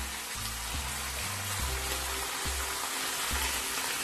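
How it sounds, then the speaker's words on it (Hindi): Masala sautéing in a rice cooker for pulao: a steady, soft frying hiss runs throughout, with low bubbling pops recurring every half-second or so, close and even. "दो 3 मिनट भूनूंगी इसको,"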